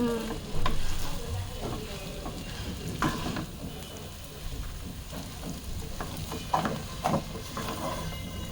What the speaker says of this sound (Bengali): সবগুলো উপকরণ দেওয়ার পরে এখন নুডলসটা ভালোভাবে মিশিয়ে নেব।